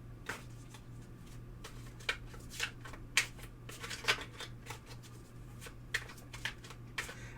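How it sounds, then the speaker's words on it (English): A deck of tarot cards being shuffled over and over, a run of soft papery snaps and riffles at an uneven pace, with a steady low hum underneath. "I'll just go ahead and shuffle this deck again"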